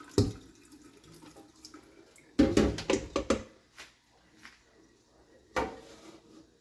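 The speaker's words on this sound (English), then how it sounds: "as you can see, the water is purely clean. So this is the last wash." Tap water splashes into a bowl during the final rinse of rice in a home kitchen, coming in short, uneven bursts of close splashing separated by quieter gaps.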